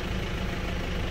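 The engine of a Honda Civic Genio idles below 1000 rpm, an even, continuous low rumble heard up close without pauses.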